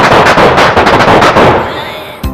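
Firecracker bursts crackle loudly in a dense, rapid string for about a second and a half, then fade, with one last sharp pop near the end.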